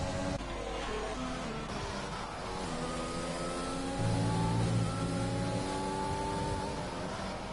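Racing car engines in a circuit race in Italy, including an Alfa Romeo, rev and roar past steadily. Rising and falling tones hold close and loud throughout without any talk.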